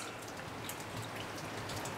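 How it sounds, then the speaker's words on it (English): Rain falls outdoors after weeks of wet weather, a soft, steady patter with scattered drops tapping nearby, quiet and alone. "It's been raining for about 3 weeks now."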